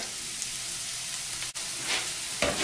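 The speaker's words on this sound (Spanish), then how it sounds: "que se sofrían eh, los vegetales, el ajo con la cebolla, el pimiento" Garlic, onion and bell pepper sauté in a pan for a crab chupe, giving a steady, close sizzle with faint stirring sounds throughout and no voices.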